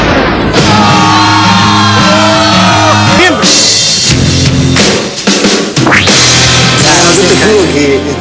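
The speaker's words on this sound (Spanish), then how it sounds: "¿Puedes hacer callar al que está gritando con un bozarrón?" Loud, booming shouting dominates throughout, with a deep voice yelling over other voices and background commotion.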